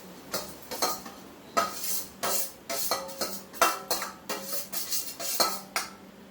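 A metal spoon scrapes and clinks rhythmically against a kadhai holding a little refined oil while frying and roasting an ingredient for motichoor laddoo, a quick series of close, sharp clatters over a faint sizzle, with no talking.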